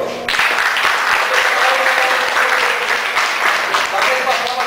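Loud, sustained applause from a church congregation in Diadema, Brazil, steady clapping filling the whole stretch without pause.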